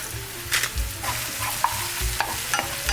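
Onions frying in oil in a pan with salt added, a steady close sizzle under irregular scraping and stirring knocks, with no voices.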